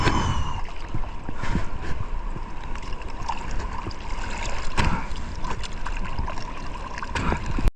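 Strong sea waves washing and churning steadily near a shoreline during overnight fishing, a continuous rushing wash with surges and splashes throughout, close and fairly loud.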